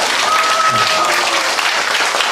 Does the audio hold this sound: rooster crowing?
no